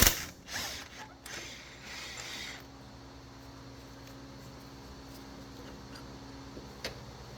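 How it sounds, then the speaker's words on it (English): A 19mm wrench works the top nut on a Toyota Prius front strut, giving quiet ratcheting clicks and metallic mechanism ticks close by, with a sharper tick near the end and no talking. "put you a 19mm wrench on the back side, and you want to try to take the nut off"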